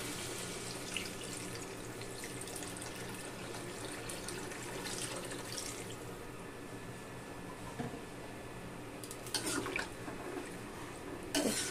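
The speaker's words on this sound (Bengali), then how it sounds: "এবার আমি চিকেনে জল দিয়ে দিব।" Water is poured into chicken cooking in a pan, a steady rushing, sizzling wash of liquid that continues close up with a few sharper splashes and bursts near the end.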